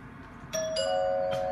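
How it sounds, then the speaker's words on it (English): An ordinary wired doorbell chimes when its button is pressed, giving a clear, close two-tone ding-dong with the second note ringing on as it fades, heard alone. "So let's see if they actually ding when you"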